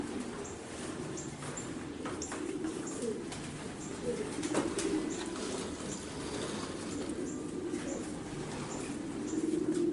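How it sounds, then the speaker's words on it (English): Racing pigeons in a loft compartment cooing softly, with low, repeated throaty coos blending into steady background noise and no talk. "All of these birds in this compartment,"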